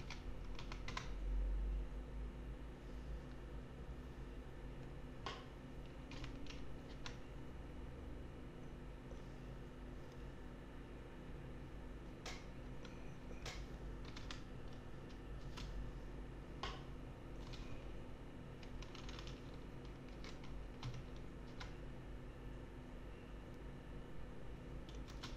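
Fingers tap steadily on a computer keyboard while entering a website address into Google, the clicks quiet and irregular over a low room hum, with no voices.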